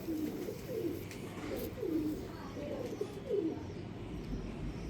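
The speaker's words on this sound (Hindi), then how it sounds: "ये प्यारे दोस्तों ये मेरे ब्लैक पैंथर कबूतर" Black Panther pigeons cooing in a loft, a series of five or six soft, rolling coos repeating at a steady pace, close by over light background noise.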